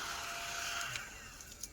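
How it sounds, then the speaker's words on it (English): A small handheld vacuum cleaner runs steadily with a whining hum while sucking up glitter, with a few faint ticks of particles near the end. "I love my little vacuum."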